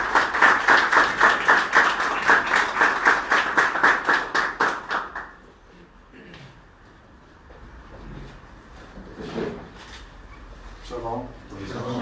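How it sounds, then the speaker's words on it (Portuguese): A crowd applauds at a rally against antisemitism and discrimination in São Paulo, with loud, fast, steady clapping for about five seconds that stops abruptly. A quieter room follows, with scattered small noises and a voice. "peço uma salva de palmas."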